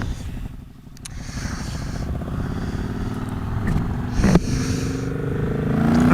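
A 2018 Triumph Bonneville T120 motorcycle is ridden on the road, its engine a steady low drone with wind rush, building gradually louder toward the end, while a rider talks over it.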